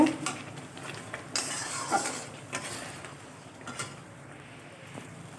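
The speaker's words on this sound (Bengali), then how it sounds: "জিরে গুঁড়োটা দিয়ে একটু নেড়ে চেড়ে মিশিয়ে নেব" Cumin powder being stirred into a prawn head curry in a pan, with a spoon scraping and clinking against the metal in scattered, moderately close strokes over a faint simmer.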